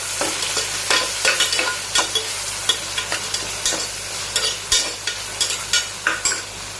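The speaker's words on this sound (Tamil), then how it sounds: "அதையும் போட்டு நல்லா வதக்கி விடுங்க." Chopped onion and tomato sauté in a pan for a Tamil kovakkai kulambu, a soft steady sizzle broken by repeated scraping stirs of a spoon in an uneven rhythm, close and without talk.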